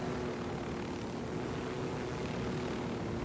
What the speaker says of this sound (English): They just spawn right back in the helicopter.